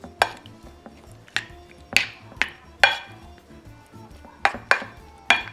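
Spoon or utensils clinking against a bowl while pork and shrimp are mixed with soy-style sauces, a series of sharp, nearby clinks and scrapes at an irregular rhythm, with no talking.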